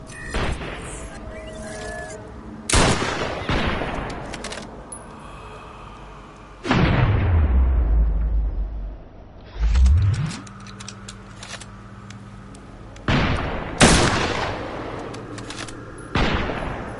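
Bursts of gunfire in Killing Floor 2 VR come in separate volleys of sharp repeated shots, loud and close, broken by a heavy rumbling boom and quieter gaps between.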